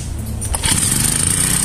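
A small four-stroke grass trimmer engine sputters and catches, then runs with a loud, buzzy, rapid drone up close.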